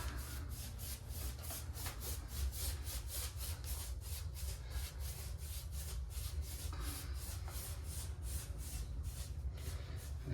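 Light paintbrush strokes apply primer over patched drywall compound on a purple wall: a steady, close run of soft rhythmic rubbing swishes with no talking.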